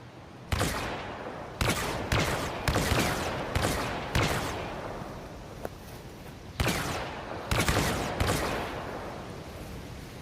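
An X-8 Night Sniper prop blaster fires a series of loud, booming shots, roughly ten irregularly spaced blasts with long reverberant tails over a constant noisy background, close and without talk.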